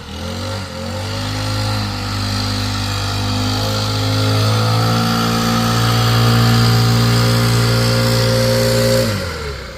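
A loud, steady engine drone from a blower clearing debris off a cracked surface, holding a constant pitch for several seconds before winding down at the end, with no talking.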